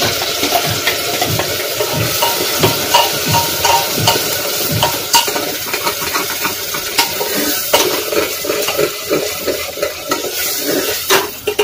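Loud, continuous frying sizzle of onion paste in ghee, with frequent scraping and clinking as a spoon stirs the pan.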